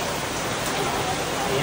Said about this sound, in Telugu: చూసుకోవచ్చు వాన అయితే మామూలుగా లేదు.